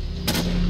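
A single loud, sharp gunshot in the Fallout 4 video game, one brief blast with a short lingering tail over a steady background hum.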